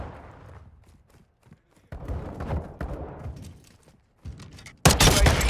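Gunfire from the Call of Duty: Modern Warfare 2 video game on PS5, with scattered bursts and thumps that swell into a loud, dense volley near the end, no talk over it.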